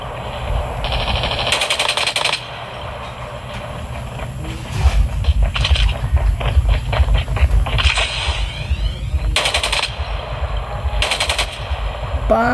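Rapid bursts of automatic gunfire from Call of Duty: Mobile rattle loudly and almost continuously, with brief pauses and sharp metallic clatter between volleys.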